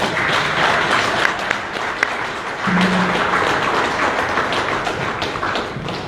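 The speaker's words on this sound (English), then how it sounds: "Clap for me." An audience claps for the Ghanaian artist at his Def Jam and Universal Music Africa signing event, a steady, dense patter of hands that runs loud and even throughout.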